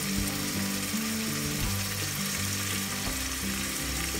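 Onions and tomato fry for a beef curry in a loud, close, unbroken sizzle, with a mechanical hum and faint rattling underneath.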